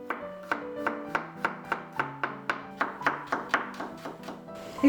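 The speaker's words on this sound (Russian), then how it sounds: "Три-4 зубчика измельчаем." A knife minces three or four garlic cloves on a board in a home kitchen. A quick, regular run of light taps plays over soft tonal background music, with no speech.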